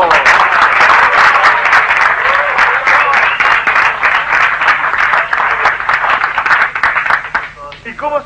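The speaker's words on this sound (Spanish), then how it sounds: "¡Un aplauso!" Studio audience applause on a 1988 TV show, loud continuous clapping from a crowd that swells and then thins out near the end, with a voice speaking over it briefly.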